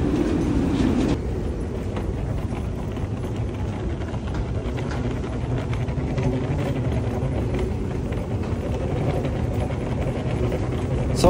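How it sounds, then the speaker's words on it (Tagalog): Airport train in Jeddah carrying passengers back toward immigration, a steady low rumble with rolling clatter throughout, heard from inside the car with faint background murmur. "sakay naman tayo ng train pabalik doon sa may immigration naman ulit"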